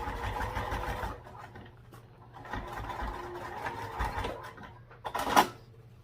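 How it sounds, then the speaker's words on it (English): A sewing machine bastes a strap topper onto a baby sling, its motor whirring in steady bursts with brief pauses between runs, close and moderately loud, and a sharper clack near the end. "we're just basting on this strap topper right now"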